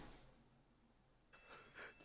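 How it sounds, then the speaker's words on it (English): Ringing telephone in a cinematic video game: after a near-silent stretch, a bright, trilling ring starts abruptly and continues steadily. "And the phone's ringing?"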